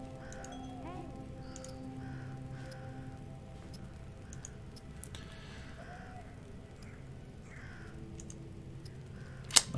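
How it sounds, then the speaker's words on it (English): Crows caw in short repeated calls at a moderate distance in the Where the Goats Are video game, under a faint backdrop of keyboard clicks and rain-like ambience. "They're just crows."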